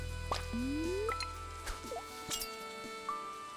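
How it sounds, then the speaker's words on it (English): A fishing line is cast into water in Stardew Valley: a rising whir as the line flies out, then small watery plops and light chime-like game sounds over faint background music. "Or maybe a couple more casts into the water."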